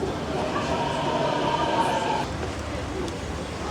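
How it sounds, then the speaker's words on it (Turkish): Steady rumble of an Istanbul metro train in motion, heard from inside, with a broad roar and a brief high whine, loud and continuous throughout. "Arkadaşlar biz metroya bindik."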